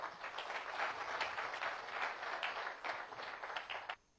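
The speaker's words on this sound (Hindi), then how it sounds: "जोरदार तालियां हो जाएं सर।" A crowd at a direct-selling business gathering in India applauds in a dense, steady patter heard at a distance and fairly faint, which stops abruptly after about four seconds.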